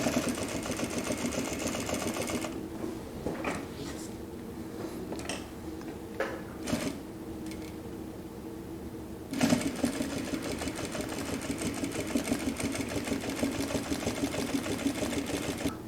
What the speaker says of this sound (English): can you sew leather with this DDL machine? Yeah, it actually can.